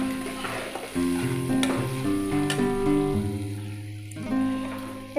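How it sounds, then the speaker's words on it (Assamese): Turmeric and salt frying in a pan for fiddlehead fern fry, a steady soft sizzle running under sustained instrumental background music, with no talk. "1 মিনিটমান সময় ভাজি"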